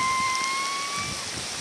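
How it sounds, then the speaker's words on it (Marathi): Heavy rain pouring onto a balcony during a downpour, a steady broad wash of water close by with faint tonal whines running through it and no voices. "मंडळी, पाऊस आलेला आहे जोरात आणि आता आम्ही भिजतोय"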